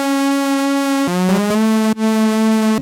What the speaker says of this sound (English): it's just a Serum lead that sounds like this